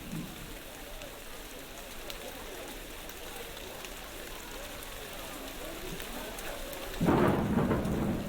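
Rain and rolling thunder in the theme-park building game Parkitect, a steady hissing downpour with a low rumble beneath, swelling into a louder thunder crash near the end.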